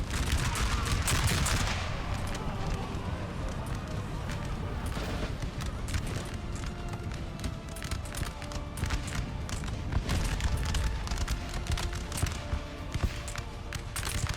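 Musket volleys from massed infantry in Napoleon: Total War, a dense, continuous crackle of overlapping shots, louder and thicker in the first seconds, then ragged scattered firing with distant battle noise underneath.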